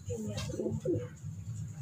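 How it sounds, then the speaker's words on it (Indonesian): A racing pigeon gives low, soft coos in a short cluster, close by, with faint background noise around it. "Nih, merpati Suliwa nih."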